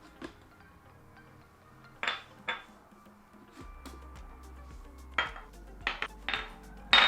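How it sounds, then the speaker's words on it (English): Ceramic steaming dishes are set down on a kitchen counter, giving a few sharp clinks and knocks spaced a second or so apart, close and distinct against a quiet room hum. "Carefully remove the dishes from the steamer with tongs or oven mitts and set them on the counter."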